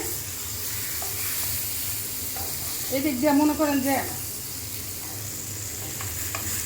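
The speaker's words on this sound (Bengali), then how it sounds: "বেগুনের চাক ভাজা করতেছি হালকা মশলা দিয়া" Oil sizzles steadily in a pan as eggplant slices fry with light spices, a spatula stirring throughout; a person talks briefly over the frying in the middle.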